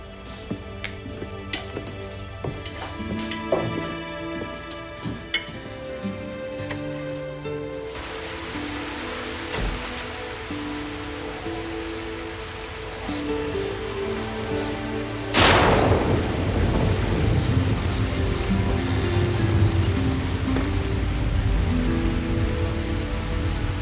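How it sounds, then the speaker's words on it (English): Heavy rain pattering on surfaces with rolling thunder, a loud thunderclap crashing in partway through and the downpour intensifying afterward, with faint scattered ticking and no voices. "went out in the rain"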